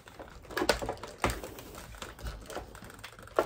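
Clicking from the head joint of a HasLab Marvel Legends Sentinel action figure as it is worked loose: a few sharp, close plastic clicks scattered across a few seconds, with no talking.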